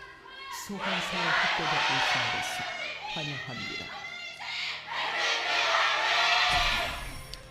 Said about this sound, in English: That crowd cheer.